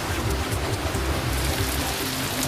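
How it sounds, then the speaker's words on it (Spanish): Steady rain falls on the mountains around a valley under storm clouds, a constant dense hiss with low rumbling underneath and no voices. "La lluvia cayó sobre las montañas que rodean el valle."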